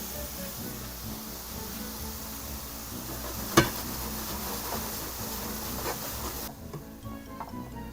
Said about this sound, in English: you will cook it for 2 or 3 more minutes just to brown the outside